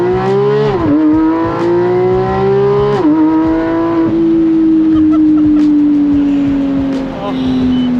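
A Porsche GT3 engine revs while driving, its steady harmonic drone rising and dipping through gear changes and throttle lifts, loud and close throughout, with people talking over it.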